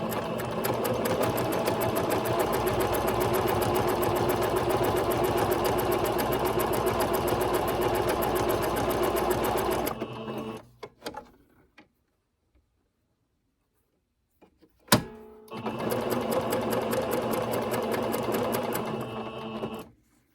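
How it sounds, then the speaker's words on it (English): A sewing machine stitches quilt pieces together, running loud and steady for about ten seconds, stopping into near silence with a single sharp click, then starting again and running for several more seconds. "Time to start sewing some pieces together."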